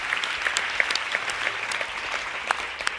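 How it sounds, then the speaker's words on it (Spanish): An audience at a fashion retailer's meet-and-greet quiz event claps for a correct answer, a brief, moderately faint patter of hands from a modest crowd with no voices over it. "Un aplauso para Alex, que ha dado la respuesta correcta"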